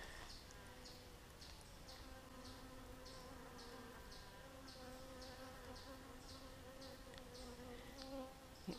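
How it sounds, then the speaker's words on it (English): Many bees hum in a steady, dense drone with overlapping pitches and individual insects flying past close by, continuous and fairly quiet, with no voices. "I see bees coming toward it"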